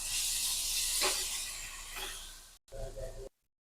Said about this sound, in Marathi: छान परतून घेणार आहोत मिरची आपण.